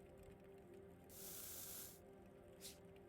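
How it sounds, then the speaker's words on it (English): A spray can hisses in the Into the Radius video game, one steady burst of about a second followed by a brief short puff, alone over a quiet low background hum. "let's just give it another little spray"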